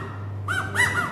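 An imitated quail call whistled by a performer at a concert in Bogota: two short rising-and-falling chirps, close and clear, over a low steady hum.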